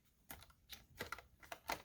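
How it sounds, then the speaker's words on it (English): A large paper punch cuts through journaling cards with a handful of sharp, close clacks and dull thumps, spaced unevenly in a quiet room with no speech. "I do like to use the larger punch on journaling cards."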